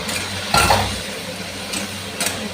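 Spices and vegetables, pumpkin and potato with prawns, are stirred and fried in a pan, giving a few scraping clatters of a spoon against metal over a faint sizzle.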